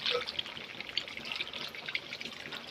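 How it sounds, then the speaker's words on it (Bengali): Small amount of water poured into a pan of chicken cooking in spices, a light, continuous trickle and splash, close and fairly faint, with no talking. "এখন আমি একটু জল দিয়ে দেবো অল্প বেশি দেবো না অল্পই দেবো"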